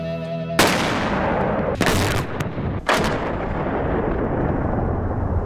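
Detonation of a box of white powder charge set up at a demolition test site, heard as a sudden loud booming blast followed by rumbling and a few sharp crackling bursts that roll on as a sustained roar.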